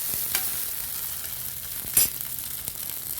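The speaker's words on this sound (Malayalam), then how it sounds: "വെളിച്ചെണ്ണ ചൂടായി ഞാൻ വെണ്ടയ്ക്ക ഇട്ടിട്ടുണ്ട്." Okra (ladies finger) fries in hot coconut oil in an iron pan, a soft steady sizzle with a few brief sharp pops and one louder spatter near the middle, heard close and alone.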